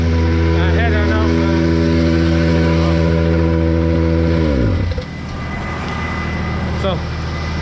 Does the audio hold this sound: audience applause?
no